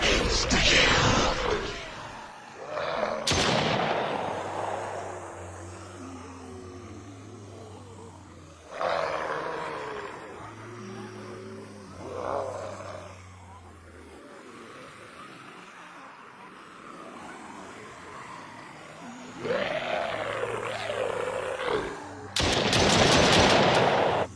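Video game guns firing in bursts of rapid automatic shots separated by quieter gaps, with booming impacts and roars between volleys, fairly loud throughout.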